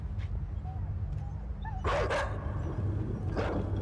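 A dog in the video game INSIDE barks twice in short bursts over a low ambient hum, with a few faint whimpers and yips in between.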